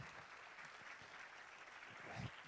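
An audience keeps up a continuous wash of applause for the speaker Jorge, steady and somewhat distant, with no talking over it.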